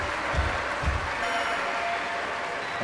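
Steady crowd applause fills an arena in the London 2012 Olympics diving video game, a broad continuous wash of clapping with a couple of low thumps early on.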